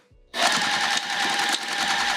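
A sewing machine starts up suddenly and runs in one steady, loud, close burst while stitching a patchwork zipper case, with no voices.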